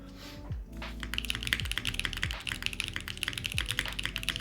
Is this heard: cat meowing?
no